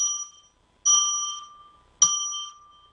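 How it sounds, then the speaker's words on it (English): A small bell is struck three times in a quiet room during a live ritual opening, each bright, clear ding ringing out and fading before the next, with no talk over it. "I'm going to ring a bell 3 times now to declare that from here on in"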